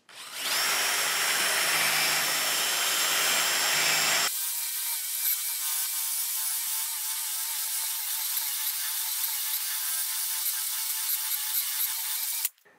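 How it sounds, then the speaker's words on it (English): A sanding drum on a power tool grinds wood down flush against a quarter-inch steel bar in a workshop, with a steady high whirring hum that shifts pitch partway through and runs continuously until it stops abruptly. "a convenient way to sand the inside corner here is by using a sanding drum"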